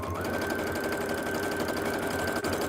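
A sewing machine runs steadily throughout, stitching a scrappy autumnal zipper pouch with the walking foot removed. The motor holds a continuous, close, even hum with no pauses or talk.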